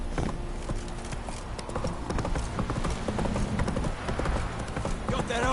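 Roach, the horse in The Witcher 3, trots along with a loud, steady, rhythmic patter of hoofbeats amid busy game ambience, with no one speaking.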